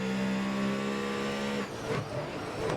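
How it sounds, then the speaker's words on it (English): Loud, steady turbocharged car engine drone in the racing game Grid Autosport on the Brands Hatch short track, held at high revs before the pitch falls away sharply as the car slows, with no talk. "Lovely engine noise on this car. Hear a turbo."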